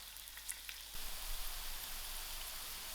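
Onions hit hot oil for a dhal curry, and a soft sizzle builds after the first second into a steady, fairly quiet frying hiss.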